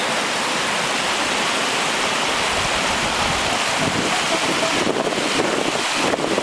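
Steady broadband rush of a flowing creek fills the whole clip, loud and continuous, with some gusty wind buffeting mixed in, in Panthertown Valley, Nantahala National Forest, North Carolina.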